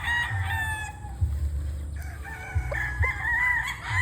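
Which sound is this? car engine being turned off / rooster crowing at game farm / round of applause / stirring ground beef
rooster crowing at game farm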